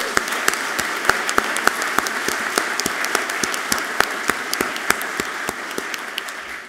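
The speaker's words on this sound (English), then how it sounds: "Let's give them all a round of applause." Audience applause at a university's Distinguished Alumni Awards ceremony, a sustained wash of moderate clapping with distinct sharp individual claps standing out, steady throughout and heard from some distance in the hall.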